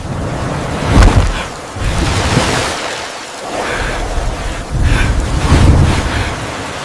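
Sea waves wash onto the shore in broad surges, swelling loudly around one, two and five to six seconds with wind noise between them and no voices.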